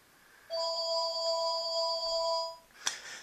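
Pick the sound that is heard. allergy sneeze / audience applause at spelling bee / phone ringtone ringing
phone ringtone ringing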